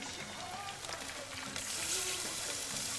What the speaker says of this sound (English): Then I will have water added to this one.